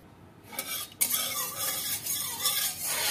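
A fork or spoon clinks and whisks quickly against a bowl while eggs are beaten for an omelette in a home kitchen, a steady close scraping rattle after a soft start.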